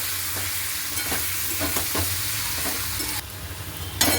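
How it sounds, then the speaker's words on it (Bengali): Potatoes fry in hot oil in a pan, a loud steady close sizzle with occasional scraping stirs throughout, briefly dropping before a sharper burst of sizzling at the end. "আলুটা দেখো ভাজা হয়ে গেছে"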